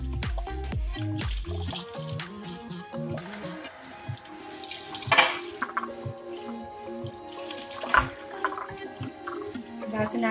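Running water splashes and drips as raw chicken is rinsed in a home kitchen, uneven trickling and wet squishing with sharp clinks, loud and close throughout.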